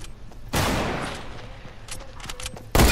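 A single loud gunshot with a decaying tail rings out in a Fortnite match, followed by quieter distant pops and another sharp shot at the end.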